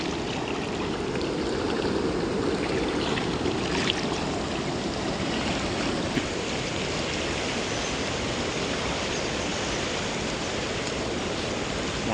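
Water gushes strongly into a pond in a dense, steady roar that stays loud and close throughout, with no voices over it.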